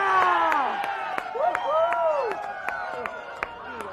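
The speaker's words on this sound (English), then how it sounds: "A round of applause as Wesley Vale goes off the ground." A crowd cheers and claps outdoors at a football grand final, with whoops and excited voices overlapping in a loud, continuous mix.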